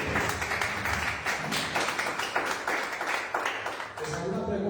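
A church congregation claps together for the Lord during a Spanish-language sermon, a dense rhythmic patter of many hands that holds steady, then thins and fades near the end, with faint voices underneath.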